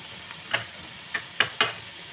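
Ground pork for tortang giniling fries in a pan with a soft steady sizzle, broken by four quick scraping clacks as it is stirred.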